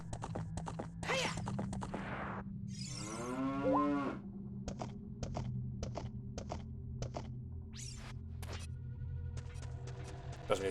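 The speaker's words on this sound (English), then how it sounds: "Don't mind Epona. She might sound like a cow" In Zelda: Ocarina of Time, the horse Epona gives a series of loud, drawn-out, cow-like moos and lowing calls over a steady low drone, with faint clip-clop hoof taps between them.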